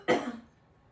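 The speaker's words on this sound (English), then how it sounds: "Excuse me, I have to cough." A single close cough in a kitchen while rolling cinnamon roll dough, with a sharp burst followed by a short rough tail fading out, and no talking.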